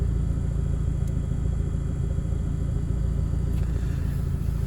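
A car drives along a road with a steady, loud low rumble of engine and tyre noise heard from inside the vehicle, unbroken and without talk.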